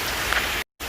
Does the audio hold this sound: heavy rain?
yes